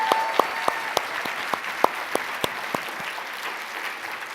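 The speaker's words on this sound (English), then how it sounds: "Let's give them one last round of applause." An audience at a conference session applauds the speakers, with a lively burst of clapping that slowly thins and fades over a few seconds.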